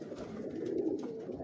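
Pigeons coo softly and continuously on a rooftop in Lahore, a low steady murmur of overlapping calls with no voices.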